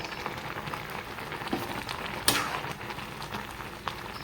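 Chowmein noodles simmer in a mixed vegetable soup, giving a steady soft bubbling and crackling hiss throughout, with one sharper clink partway through.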